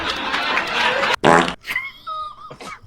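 A loud, drawn-out fart sound effect blasts briefly, followed by squeaky, wobbling sputters and brief laughter-like sounds.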